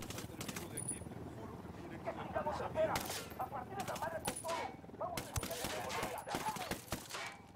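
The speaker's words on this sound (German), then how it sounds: "Ich hab einfach mal angefangen zu schießen." Gunfire in Ghost Recon Wildlands: repeated sharp shots and bursts crack out at irregular intervals, some close and loud, others quieter, while voices talk underneath.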